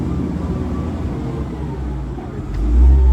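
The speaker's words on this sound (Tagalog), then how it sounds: "May dumaan na sasakyan ng ingay." A noisy vehicle passes by as a steady, loud low rumble that swells into a heavier, deeper roar near the end, with no talking.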